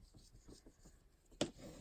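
Paper being burnished down onto book paper for a journaling card, a soft faint rubbing and scraping with one brief sharper rub, close and quiet.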